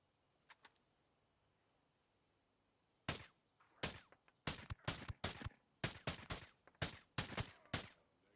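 Gunshots in a Ghost Recon game: two faint pops, then a string of about a dozen loud, sharp single shots fired in quick irregular succession.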